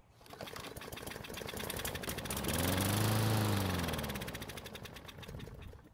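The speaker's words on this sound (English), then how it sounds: "Luckily for us, the engine started and ran for a few seconds" A Murray lawn mower engine sputters to life and runs for a few seconds, its buzzing drone swelling louder in the middle and then easing back down, close and without talk.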